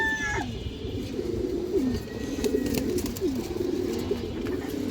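A female pigeon coos in soft, repeated low rolling phrases, close by and steady across the stretch, with a few faint higher chirps from other birds in the loft.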